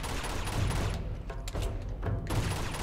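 Dense, continuous AK rifle gunfire fills a firefight in the video game Uncharted 2: Among Thieves, with loud overlapping bursts and brief gaps and no talking.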